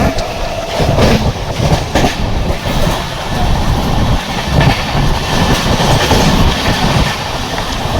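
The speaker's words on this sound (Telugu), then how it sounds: "చాలా ఫాస్ట్గా అయితే వెళ్తుంది ట్రైన్." Simhadri Express with LHB coaches speeds along near Annavaram station, heard from on board as a loud, steady rumble with rhythmic wheel clatter throughout.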